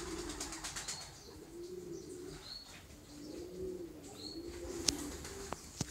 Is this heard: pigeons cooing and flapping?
yes